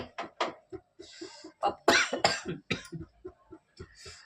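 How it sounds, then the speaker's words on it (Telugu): A run of repeated harsh coughs and throat-clearing bursts, close and loud, coming in irregular clusters with brief pauses, set off by pungent fumes from tempering dal. "దగ్గు వస్తుంది"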